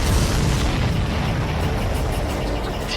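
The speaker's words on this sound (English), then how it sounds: "Did you see that explosion?" A loud, sustained roar of an explosion in the aerial combat game Ace Combat 7, a dense rumbling blast that fills the whole few seconds without voices, set during a hunt for supply ships in the clouds.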